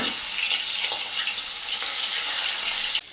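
Fish frying in hot oil in a home kitchen, a steady, fairly faint hiss and crackle of sizzling, continuous and unbroken, ending with a couple of short clatters.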